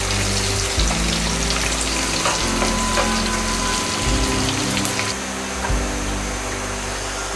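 Onion frying in oil for an ilish fish and kochu shak dish, a steady dense sizzle with crackling throughout, close and fairly loud, with low rumbling hum beneath and no talk.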